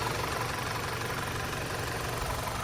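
An Audi TFSI car engine idles with a steady, continuous rumble, loud and close, with a low mechanical hum and no voices.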